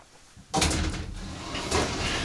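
The rear entry door of a Forest River Quailridge 39AKFFL tiny house park model is worked, a sudden clunk of the door moving followed by a softer rattle and shuffle, close by.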